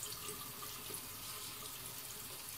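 A steady, soft rush of water flows from a tap into a sink while a brush is rinsed, constant and unbroken, with no voices.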